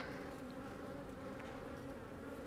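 Honey bees drone steadily inside a beehive in a continuous, close, even hum with no voices present.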